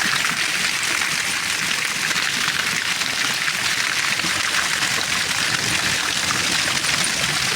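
Heavy rain mixed with hail pours down in the mountains, a dense, steady hiss of drops hitting surfaces that stays loud and unbroken from start to finish, with no voices.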